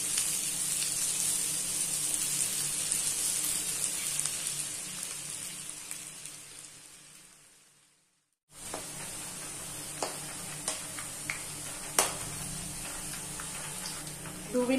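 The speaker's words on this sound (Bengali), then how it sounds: "তেল গরম হয়ে গিয়েছে, এবার এগুলোকে এভাবে দিয়ে দেবো। হালকা ফ্রাই করব 2-3 মিনিট।" Pieces of semolina dessert frying lightly in hot oil: a steady, close sizzle and hiss that cuts out briefly, then resumes with scattered pops and crackles.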